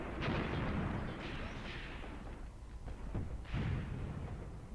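Heavy weapons in Graviteam Tactics pound enemy positions with repeated deep booms and rumbling artillery blasts, two or three strong bursts heard at a moderate distance.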